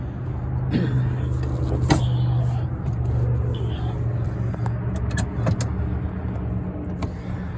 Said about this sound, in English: In fact, I'll take you for a quick drive. We'll just do a lap around the parking lot here